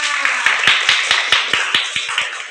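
Rhythmic clapping in a classroom, a steady beat of loud, close hand claps about five per second over a bright, noisy room.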